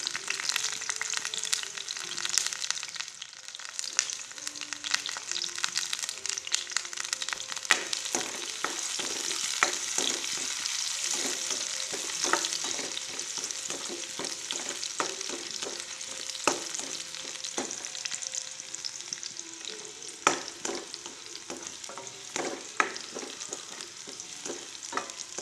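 Shallots frying in a pan during the cooking of squid in chili sauce, a steady broadband sizzle running the whole time with frequent sharp clicks of stirring and scraping close by, and no voices.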